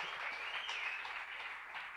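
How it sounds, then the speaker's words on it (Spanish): An audience at a televised bar-style interview show bursts into steady applause for a former baseball player, a dense, sustained wash of clapping heard at moderate distance with no talk over it. "un aplauso para Omar Vizquel, por favor"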